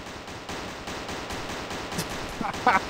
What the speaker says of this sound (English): So they're shooting at me, but they can't do anything.